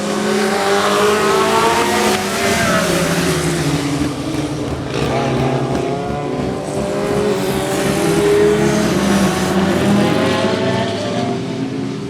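Stock cars lapping Swaffham Raceway stadium, one an orange car struggling out of turn 4, a dense, loud roar of multiple engines surging and fading as the pack passes.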